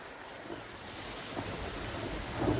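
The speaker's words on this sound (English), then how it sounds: "Suddenly, the winds and the waves changed as a storm swept over the sea" Storm sweeping over the sea, with steady rain and low rolling rumbles of thunder under gusting wind, a continuous dense roar that swells slightly toward the end.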